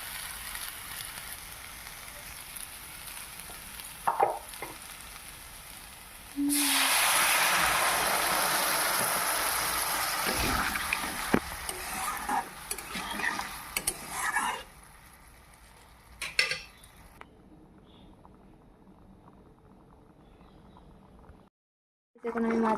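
Liquid poured onto sizzling spiced vegetables in a pan for pabda fish curry sets off a sudden loud hissing roar that holds for several seconds, then fades into quieter bubbling and clatter.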